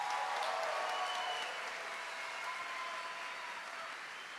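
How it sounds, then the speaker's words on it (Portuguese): An audience at a Catholic talk on Pentecost gives a round of applause for Pope Benedict XVI, a steady wash of many hands clapping together, fairly distant and faint, gradually easing off. "Uma salva de palmas para o Papa Bento XVI."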